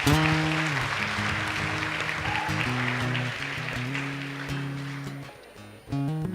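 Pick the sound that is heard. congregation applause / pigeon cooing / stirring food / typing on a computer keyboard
congregation applause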